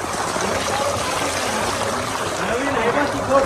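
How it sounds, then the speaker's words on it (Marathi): A waterfall feature at a swimming pool pours in a constant broad rush of water, close by, with people's voices talking and calling faintly underneath throughout. "डायरेक्ट धबधबा आहे एक नंबर आहे"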